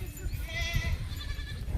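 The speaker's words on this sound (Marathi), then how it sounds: "झुंड आहे झुंड मेंढियाचा झुंड हे मेंढी जमली वाटतं" A flock of sheep gives a brief, moderately loud bleat over a steady low rumble of outdoor background noise.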